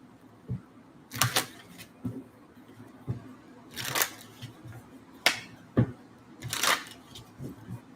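A deck of stargazing oracle cards is shuffled by hand in a quiet room, three short riffling bursts among soft taps and clicks, fairly close and faint.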